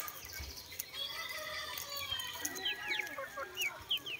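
Chickens and small chicks at a backyard coop during afternoon feeding on kangkong greens: steady soft clucking from the hens, with quick, high chick peeps scattered through it, close by and with no talk.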